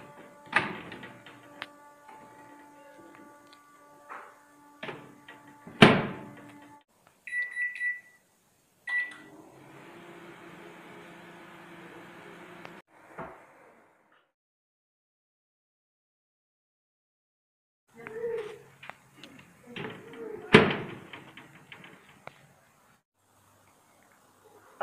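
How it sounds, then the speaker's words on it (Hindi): A microwave oven on grill mode toasting cheesy hot dog buns, with door clunks, beeps and a steady hum while it runs, then a silent gap and more handling and beeping near the end. "अब मैं बंस को ग्रिल मोड पर रखूंगी, चीज मेल्ट होने तक हमें पकाना है माइक्रोवेव में।"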